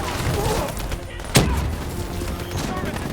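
Gunfire crackles steadily through a Call of Duty: Black Ops 3 battle on a World War II battlefield, with one sharp grenade blast standing out partway through, all under a continuous wash of combat noise.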